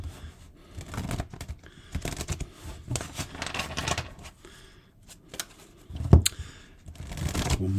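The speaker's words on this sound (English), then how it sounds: "One more shuffle, here we go." Tarot cards being shuffled by hand in repeated riffling, slapping bursts with brief pauses, close and fairly quiet.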